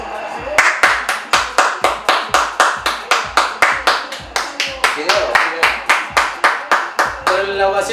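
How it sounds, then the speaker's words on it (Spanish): A stadium crowd at PSG versus Madrid claps for Neymar in a steady, rhythmic unison beat, loud and evenly spaced with crowd noise between claps. "¿La ovación para quién es? Para Neymar."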